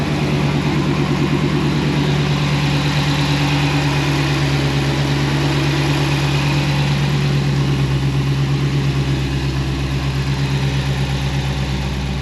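Dodge Charger or Challenger 392 V8 with a ported intake manifold idling steadily, a deep, loud, pulsing rumble that runs unbroken throughout with no voices.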